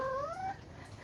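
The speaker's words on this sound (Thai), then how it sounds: "แมวเราไดโน" A cat gives a short, faint, rising-then-falling meow, lasting about half a second before fading into quiet background noise.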